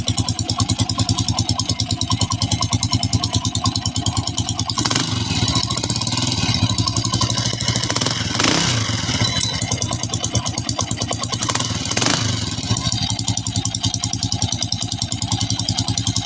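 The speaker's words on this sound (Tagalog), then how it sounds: "ito na yung Honda TMX 155 na may kakaibang tunog" A Honda TMX 155 motorcycle engine with a loose rotary part runs close by with a steady, rapid ticking idle and an odd rattling noise, rising in brief revs a few times.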